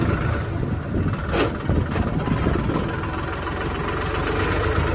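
Brand-new New Holland tractor engine idling loudly and steadily close by, a constant heavy low-pitched rumble with slight fluctuations throughout and no talk.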